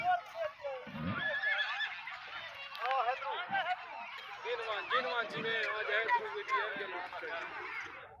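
Horses neigh at a large horse gathering in Pakistan, several whinnies rising over crowd noise and people talking, with occasional hoof sounds in the background.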